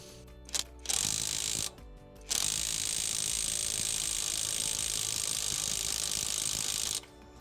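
A TEENO 320Nm brushless impact wrench unscrews in free-stop mode, loud and close: a couple of short bursts, then one sustained rattling run of about five seconds that cuts off sharply.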